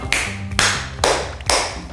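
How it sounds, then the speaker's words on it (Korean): A magician demonstrating rhythmic clapping: four loud, close, sharp claps spaced about half a second apart in an even beat. "리듬 박수 이겁니다"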